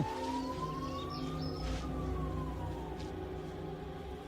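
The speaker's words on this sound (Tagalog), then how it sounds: "Ayun, tama-tama may ambulansya." An ambulance siren wails in a long rising and falling sweep, loud and continuous over a low background rumble, with no talking.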